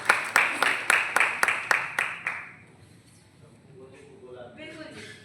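An audience at an Indian anti-drug event claps for Manoj, a BJP legislator, with a steady rhythm of loud, evenly spaced claps that fade after about two seconds into quiet murmuring and faint talk.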